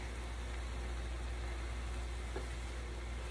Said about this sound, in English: And now I'm just gonna stir them through the mix. And we'll continue to cook.